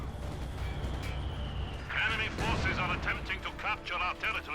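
Mortar fire in the video game Company of Heroes 2, with booming shell impacts and gunfire crackle rolling through a battle, faintly mixed with voices.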